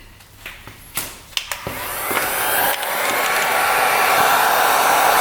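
Heat gun blowing hot air onto a part of a rare 1960s Ducati scooter, starting after a few clicks and knocks and building into a loud, steady close roar.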